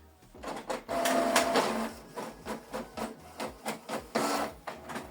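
Canon Pixma G3590 inkjet printer running a test page: close, rhythmic mechanical whirring and clicking of the paper feed and print head, pulsing in repeated strokes with a steady motor hum and no talk.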